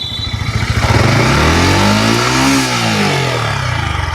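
Yamaha MT15 motorcycle engine revving up and dropping back, a loud, close single rev that rises smoothly in pitch, peaks mid-way and falls back toward idle, with no one talking.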